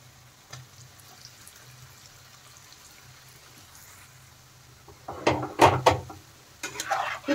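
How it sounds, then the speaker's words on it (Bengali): Potato French fries dropped into hot oil in a wok, with quiet kitchen noise first, then a loud burst of sizzling and clattering in the final seconds as the pieces hit the oil. "কড়াইতে কিন্তু তেল গরম হয়ে গেছে। এখন আমি ফ্রেঞ্চ ফ্রাই বানিয়ে নেব। দেখেন আলুগুলো আমি দিয়ে দিচ্ছি।"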